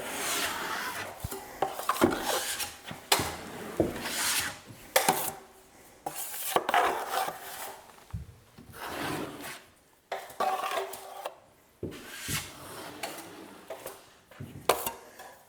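A drywall trowel scrapes and smears joint compound over tape, with repeated rough swipes and rubbing strokes at close range, each pass ending in a brief pause, and no talk over it.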